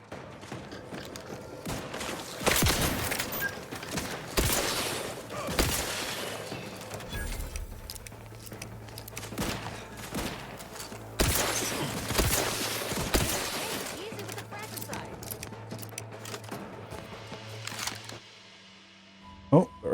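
Repeated bursts of gunfire in The Outer Worlds come in irregular volleys with clanking mechanisms and impacts between them, moderately loud, under a low steady hum, fading near the end.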